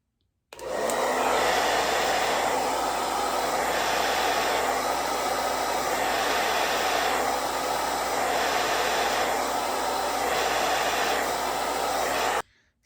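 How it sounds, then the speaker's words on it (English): A handheld hair dryer blows steadily on its cool setting over the glued hairline of a curly lace wig, a loud, constant whooshing roar that runs alone for about twelve seconds with a faint rhythmic swell. "And then I'm gonna blow dry it on cool air."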